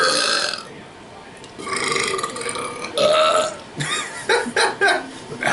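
Loud, drawn-out burps sound close to the microphone in a belching contest, several long croaking eructations in a row, with voices talking around them.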